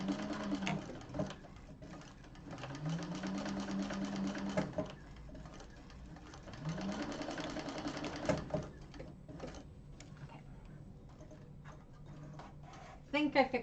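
A sewing machine stitches over a missed section of seam on a Cassia satchel bag in short, faint runs. A person talks over the stitching.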